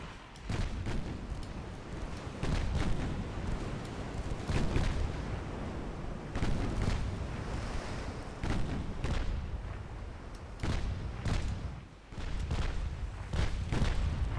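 Naval shells pound away in a dreadnought-era battle game, a dense run of booming and cracking blasts overlapping one another, loud and continuous for the whole stretch with no talking.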